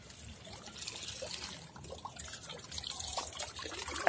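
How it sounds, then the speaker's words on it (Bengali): Water pours and trickles onto a potted plant at home, a soft continuous splashing and dribbling that stays fairly quiet and close, with no voices over it. "তাই গাছে জলটা দিয়ে দিই।"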